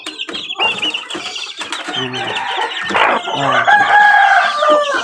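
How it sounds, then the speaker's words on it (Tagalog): Talisay-breed chickens clucking close by with a rooster crowing, loud and repeated, plus a brief spoken exclamation. "Yan ay yung anak ng aking manok."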